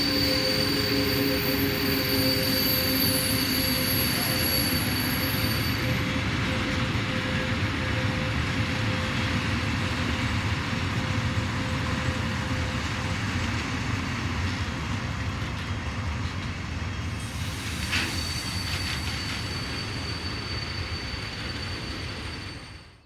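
A Class 146 locomotive hauling a Metronom passenger train on the main line between Northeim and Hannover, a continuous loud rumbling roar with steady rolling noise and a tonal whine that fades slightly at the end.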